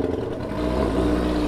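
An engine revs up, its low rumble swelling and holding louder after a brief rise, with a steady mechanical whir and no voices.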